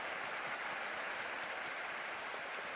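Roasso Kumamoto football fans applauding their players after a J1 League entry play-off against Kyoto Sanga, steady dense clapping from a large stadium crowd throughout.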